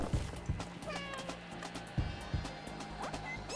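Cat sounds from the indie video game Schrodinger's Cat Burglar, playing over a busy game soundtrack with repeated low thumps and a few brief higher tones.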